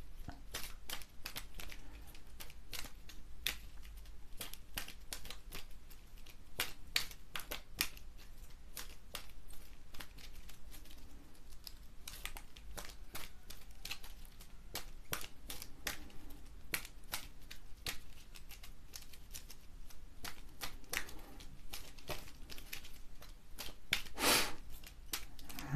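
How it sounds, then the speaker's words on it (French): A deck of numerology cards being shuffled by hand, a long run of soft quick riffles and flicking card snaps close up, fairly quiet with no talk. "Alors je bats les cartes."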